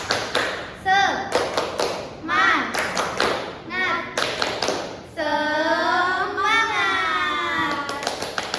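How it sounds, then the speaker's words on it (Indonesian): A group of children chants a spirit cheer together while rhythmic hand clapping taps along in short bursts, close and lively. "Gimana kalau kita tepuk semangat dulu?"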